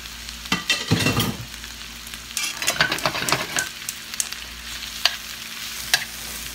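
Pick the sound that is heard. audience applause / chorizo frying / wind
chorizo frying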